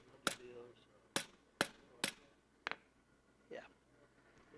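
A hammer drives the rivet tongue piece at a forge with about five sharp metallic strikes in an uneven rhythm, one a quick double hit, loud and close, with a short vocal sound near the end.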